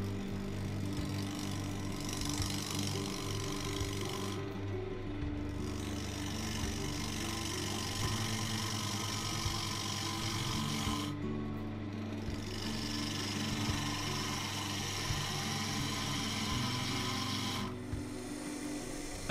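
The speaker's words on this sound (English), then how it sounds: "just using the bowl gouge, just truing up the outside." A bowl gouge trues up the outside of a pine blank on a wood lathe, a steady loud rasping scrape with a motor hum beneath, pausing briefly a few times before cutting resumes.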